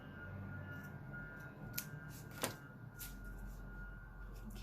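Scissors snip a small piece of lace in a quiet craft room, a few faint, brief cuts heard close up against a low background hum.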